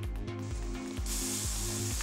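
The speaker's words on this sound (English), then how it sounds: "By spraying water, the flowability of the mortar will be improved." Water sprays in a steady hiss onto paving joint mortar outdoors, loud and continuous, with a regular low mechanical pulsing underneath and the spray growing stronger partway through.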